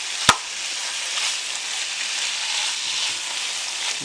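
Strips of beef for stroganoff browning stir-fry style over raised heat in a pan give a steady, close sizzle, broken early by a single sharp utensil knock.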